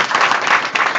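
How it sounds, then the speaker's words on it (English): Audience applause at an academic book discussion session at JNU, a dense steady wash of many hands clapping, fairly loud and close, running the full second with no voices over it. "Round of applause for all of them."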